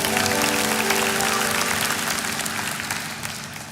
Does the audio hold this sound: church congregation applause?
yes